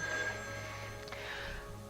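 A telephone rings in a dramatic indoor scene from a 1986 soap opera, a steady electronic ringing tone that carries through the short moment without any talk over it.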